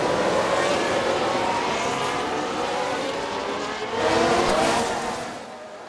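A pack of race cars launches from the grid at the start of the Bahrain Grand Prix in F1 Manager 2022, a dense roar of revving engines that swells again as cars sweep past.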